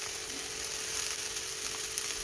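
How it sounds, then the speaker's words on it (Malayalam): Cabbage mixed with salt, turmeric and ginger is sautéing in hot oil in a pan. It gives a steady, close, dense sizzle that hisses evenly the whole time, with no talking. "ഉപ്പും മഞ്ഞളും ഇഞ്ചിയൊക്കെ മിക്സ് ചെയ്ത് വെച്ച് ക്യാബേജും കൂടെ ചേർത്ത് കൊടുക്കാം"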